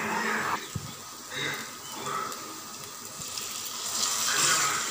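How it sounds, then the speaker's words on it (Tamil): Tamarind water is poured into a cooking pan of sautéed ingredients, giving a close, continuous splashing gush with a light sizzle that swells and eases over a few seconds. "இப்போ நான் புளி தண்ணிய ஊத்திக்கிறேன்"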